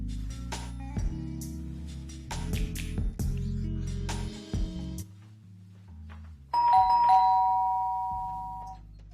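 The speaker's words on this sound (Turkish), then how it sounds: "sürekli zili çalacak" A doorbell rings again and again in quick melodic chimes, then a final drawn-out ding-dong rings out clearly near the end.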